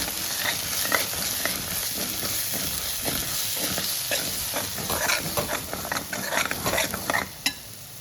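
Chili powder and mutton masala being stirred in a hot pan for a village-style crab curry: constant sizzling frying with repeated scraping strokes of a spoon, close and fairly loud, with a few sharper clicks near the end.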